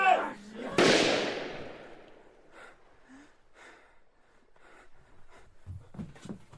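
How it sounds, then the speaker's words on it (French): A single sharp gunshot in an audiobook scene, loud and sudden with a long decaying tail, followed by softer rustles and breathy gasps. "Un coup de feu a retenti."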